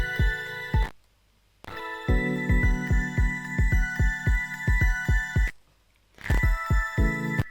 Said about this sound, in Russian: звучит как мелодия какая-то с телефона, но в целом прикольно